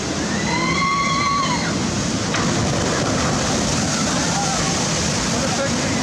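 Log flume ride at Dollywood with steady rushing, sloshing water filling the scene, loud and continuous, while voices and whistle-like tones drift over it.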